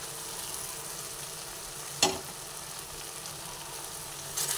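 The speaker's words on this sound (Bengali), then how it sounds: "এরপরে যে কাঁকরোলগুলো ভেজে রেখেছিলাম সেই কাঁকরোলগুলো এর মধ্যে দিয়ে দিলাম।" Pieces of pointed gourd, already fried, sizzle and are stirred in a hot pan, a soft steady hiss with one sharp clatter of a utensil midway and faint scraping toward the end.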